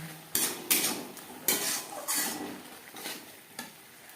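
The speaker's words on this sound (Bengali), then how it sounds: "বেশ ভালো করে মিক্সড করে নেব আর দিয়ে দেবো চার পাঁচ কোয়া রসুন" Spices and four or five garlic cloves frying in a pan while a spoon stirs them, a series of scraping strokes and clinks over a soft sizzle, rhythmic and close.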